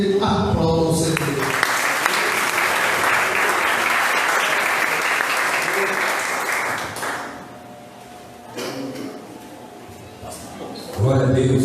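Church congregation applauding together at an evening service, a loud sustained wash of clapping that swells for several seconds, then thins out into scattered claps and a few voices.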